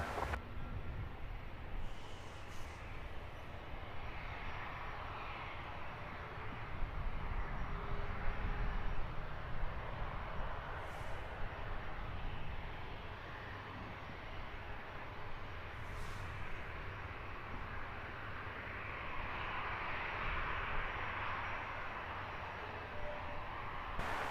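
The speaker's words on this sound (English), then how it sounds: "This Wizz Air flight 6002 heading off to Rome. It's an A321neo." A Wizz Air Airbus A321neo jet at Luton Airport, a steady broad engine roar rising and holding from a moderate distance, with a few faint clicks and no talking.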